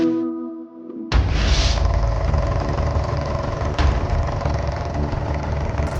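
Vehicle engine running steadily at a close, constant rumble, starting abruptly after a short quieter stretch of tonal music, with no talk over it.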